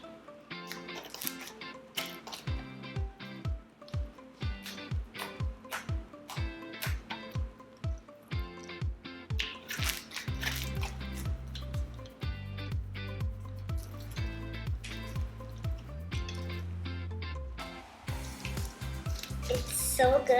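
Fluffy slime is squished and poked by hand in a long run of soft, wet squelches and crackly pops, close and fairly quiet, growing denser and airier in the second half.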